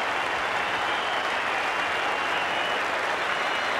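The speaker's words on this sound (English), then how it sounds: "Applause from his teammates in the Australian dressing room and a standing ovation from certain areas of the crowd." Steady applause fills a cricket ground as Justin Langer reaches fifty, with teammates clapping from the Australian dressing room and sections of the crowd on their feet, a dense continuous wash of clapping throughout.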